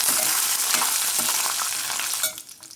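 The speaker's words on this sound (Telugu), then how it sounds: "ఒక 2 రెమ్మల కరివేపాకు, ఈ వేడికి వేగిపోతాయి అన్నమాట" Cashews and curry leaves fry in hot oil with a loud, close, crackling sizzle that holds steady before fading out near the end, with no voices.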